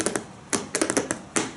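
Crisp clicking from a song, a quick irregular run of dry taps in small clusters, close and prominent.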